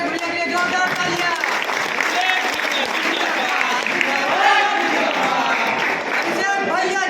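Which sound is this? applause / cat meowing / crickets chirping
applause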